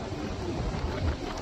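Wind gusting across a flat sandy beach during bass fishing, a steady loud rushing buffet against the microphone with low rumble, no voices.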